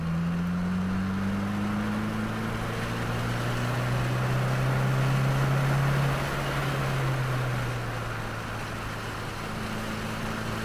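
A 2022 Subaru WRX engine drones steadily under throttle on the Waterford Hills race track, its pitch climbing and easing through a turn, loud and continuous with no pauses.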